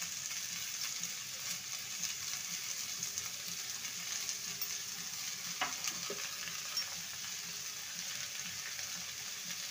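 Egg and bottle gourd curry stirred in a pan with a spoon, soft scraping and gentle sizzle continuing steadily at moderate distance, a couple of brief clinks midway, no talking.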